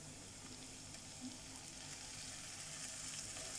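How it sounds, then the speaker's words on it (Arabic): Softened onions fry in a pan as tomatoes and peppers go in, making a soft, continuous sizzle and hiss with faint stirring scrapes, fairly quiet and steady throughout, no talking. "البصل دبل معايا بالشكل ده، هنزل عليه بقى بالطماطم والفلفل"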